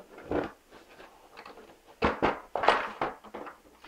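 Box holding the weapons for a Hot Toys Terminator T-800 figure being opened, a few soft cardboard thunks and rustling handling sounds, quiet and close.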